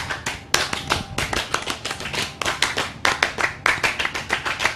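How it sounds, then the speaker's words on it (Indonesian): A group performs the Indonesian scout clap, a patterned rhythmic clapping routine, with sharp, loud clap bursts in repeated rhythmic groups and no talk over them. "2 kali tepuk pramuka"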